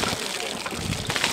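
Water poured over captured Sonoran pronghorn antelope held off the ground by handlers outdoors, a continuous splashing wash running the whole short stretch with a busy, noisy background.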